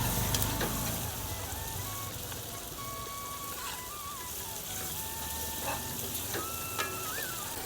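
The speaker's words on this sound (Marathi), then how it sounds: "आता बघूया आपण आपले टमाटे लसून फ्राय झाले का नाही" Tomatoes and garlic fry in a pan, giving a continuous, fairly close hiss and crackle that holds steady throughout, with faint thin whistling tones above it.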